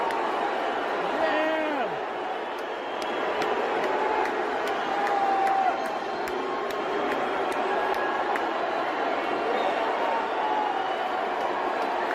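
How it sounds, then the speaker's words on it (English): A large audience at a comedy show reacts with a mix of cheering and booing, a steady broad crowd roar that holds for the whole stretch, with voices mixed in. "Cheers and boos, I see."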